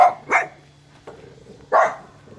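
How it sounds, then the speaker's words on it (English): A dog barks three times at close range, sharp loud barks separated by short pauses, with no talking around them. "By the way, that's not Oscar. That's his dog"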